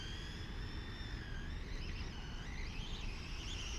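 A Traxxas 4Tec 2.0 brushless RC car, upgraded, runs at half throttle with a steady high motor whine that rises and wavers in pitch over constant rumbling road noise, close and continuous.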